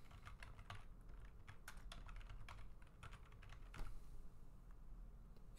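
Keys clatter steadily on a computer keyboard as a username is entered on a Windows PC, a quiet run of close, crisp taps with a slightly louder stroke near the end and no talking.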